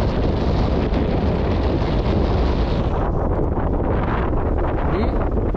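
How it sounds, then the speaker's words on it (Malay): Strong wind buffets the microphone outdoors in cool weather with a loud, constant, rumbling roar that barely lets up. "tapi angin kuat."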